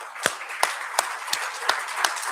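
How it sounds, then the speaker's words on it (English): Sparse, evenly spaced claps ring out at a finance lecture event in Ahmedabad, about three per second, sharp and fairly close over a quiet room with no talk. "I would request you to give a big round of applause for Sri Harin Bhai Pathak."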